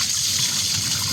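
Coolant dribbling and trickling out of a Skoda 1.4 TDI engine during a timing belt and water pump job, a steady close liquid trickle with no voices.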